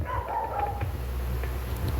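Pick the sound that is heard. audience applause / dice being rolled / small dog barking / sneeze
small dog barking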